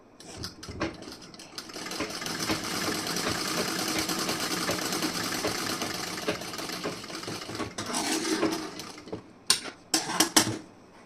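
A sewing machine stitches the tucked front panel of a wedding blouse, whirring steadily and evenly for several seconds before stopping, followed by a few sharp clicks and handling knocks.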